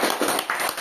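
Brief burst of audience clapping at a gathering, several hands tapping in quick irregular succession at close range and fairly loud, lasting under a second without talk.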